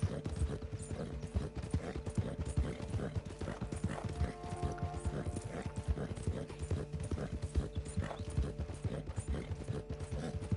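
Steady clip-clop of a horse's hooves in Red Dead Redemption 2 Online, with a neigh partway through and faint mechanical clinking of tack; a continuous, even rhythm close by.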